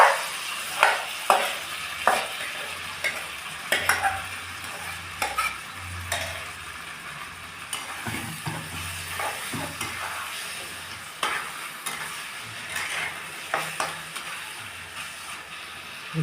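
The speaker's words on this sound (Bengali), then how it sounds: "আমি এখানে তেলটা গরম করতে দিয়ে রেখেছি। আমি এখানে পেঁয়াজ বাটাটা দিচ্ছি।" Onion paste going into hot oil and frying, a close, steady sizzle broken by repeated sharp clicks and scraping knocks of a spoon against the pan, with no talk.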